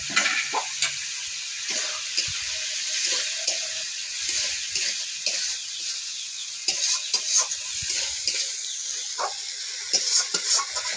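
Tomatoes frying in a pan for an Odia curry, with steady sizzling and repeated scraping strokes of a spoon stirring, close and continuous throughout.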